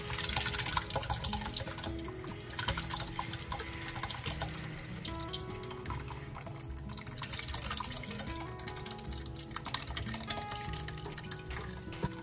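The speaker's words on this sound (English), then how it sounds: "Now it's time to strain it off and get the liquid ready to make jelly." Cooked muscadine and scuppernong liquid being strained for jelly, a faint steady trickle and drip of juice running through, with occasional soft clinks and stirring sounds nearby.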